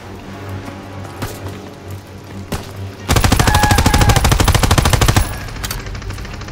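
A Tommy gun fires in Call of Duty WW2: a loud, sustained burst of rapid automatic fire lasts about two seconds, preceded by a few scattered shots and followed by quieter game ambience.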